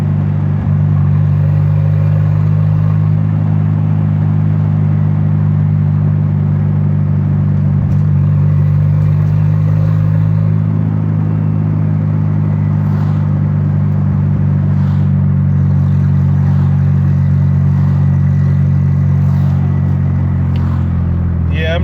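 A big-turbo Volvo car in third gear pulls out to pass, its engine a loud, continuous low rumble heard from inside the cabin, rising slightly partway through.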